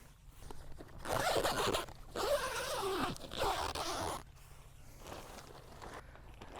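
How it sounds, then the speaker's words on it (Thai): A zipper runs along the fabric door of a prefabricated plant-growing greenhouse with a steel frame, heard as several close, raspy zipping pulls with brief pauses between them and no talking. "ตัวนี้เขาก็จะมีซิป ทั้งสองด้านเลยเป็นประตูทั้งสองนะครับ"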